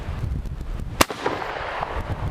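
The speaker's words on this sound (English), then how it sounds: "pull the trigger, and we'll see if this even goes bang" A Marlin 336 lever-action rifle in .30-30 fires once outdoors in Florida during Hurricane Ian, a single loud, sharp crack standing out against a steady roar of wind.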